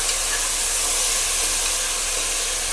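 Potatoes and brinjal frying in a hot pan give a steady, loud, close sizzling hiss that runs unbroken, with no voices over it.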